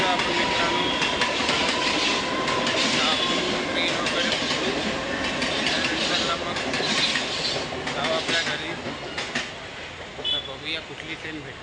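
A train runs along rails near a busy market, giving a steady, loud, broad rumble with rattling that lasts throughout and eases slightly near the end. Voices can be heard over it.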